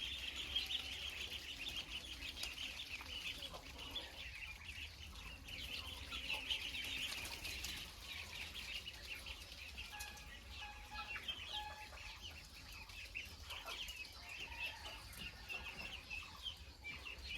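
Local backyard chickens cluck steadily at feeding time as they crowd and run after the person bringing grain; a busy, continuous flock chatter at moderate distance with no speech.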